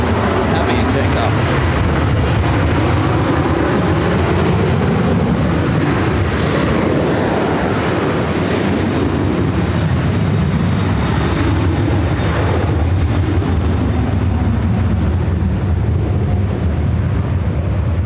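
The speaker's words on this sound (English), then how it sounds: "Let's head back to this Delta 767-400ER heading over here to 24 left. This will be our next heavy takeoff." A Delta Boeing 767-400ER heavy jet takes off at Los Angeles International Airport, its engines building into a loud, sustained roar that holds steady throughout with wind rumble in the low end.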